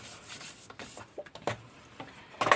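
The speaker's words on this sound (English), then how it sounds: "I'm just spreading the glue out to make sure it doesn't" Glue being spread across paper on a handmade trifold mini album, heard as soft scattered rubbing and scraping strokes, close and quiet, with no talking.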